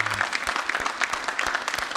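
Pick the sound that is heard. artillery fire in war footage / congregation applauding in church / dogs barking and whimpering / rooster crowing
congregation applauding in church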